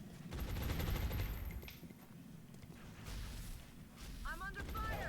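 Bursts of gunfire from the video game XCOM Long War, a mix of rattling shots and muffled impacts at moderate distance, with a voice and a short electronic chirp near the end.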